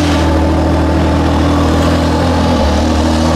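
A GT sports car engine turns over and runs at a loud, steady idle close by, with a deep, even rumble throughout and no voices.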